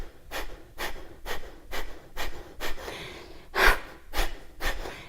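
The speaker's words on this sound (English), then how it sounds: "press the elbows back and forcefully exhale" Forceful exhalations during pranayama yoga breathing, sharp rhythmic breath bursts at about two per second, close and loud, with one stronger puff near the middle and no talking.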